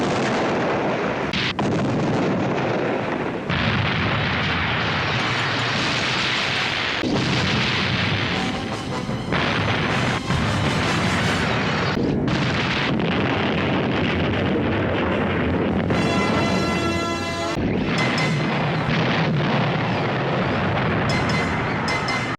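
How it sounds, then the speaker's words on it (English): Several explosions from the 1988 eco-horror film Slugs, set off when chemicals are dumped: dense, loud rumbling booms and blasts that run continuously for the whole stretch, with crackling bursts and a few sharp higher-pitched film sound effects mixed in. "which in return causes several explosions."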